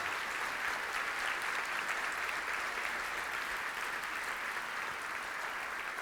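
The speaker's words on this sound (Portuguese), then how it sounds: "Você pode aplaudir bem forte nessa noite?" Church congregation applauding loudly and steadily at an evening worship service, a dense, continuous wash of clapping that holds at even volume throughout with no voices over it.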